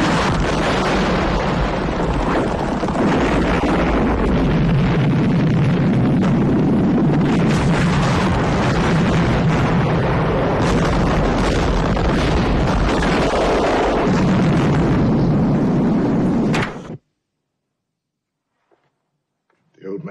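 A film scene of oil being blown up: a long, loud roaring blast and rumble with crackling debris lasting about seventeen seconds, then cutting abruptly to near silence.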